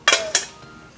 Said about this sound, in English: I'm just gonna cover this pot